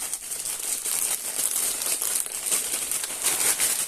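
Plastic packaging crinkles and crackles continuously and close up for several seconds, a dense crisp rustle with no talking over it.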